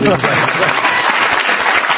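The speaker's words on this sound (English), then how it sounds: "there's a round of applause" Studio audience applause during a televised religion debate on faith and children, a steady dense wash of clapping filling the short moment at close, loud level.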